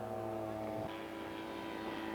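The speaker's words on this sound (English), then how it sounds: "Greg's going to do a nice low flyby for us here with Fuji powered." A Fuji-engined scale model airplane makes a low flyby at a scale aircraft show, its steady droning engine tone holding loud and close, then dipping in pitch as it passes.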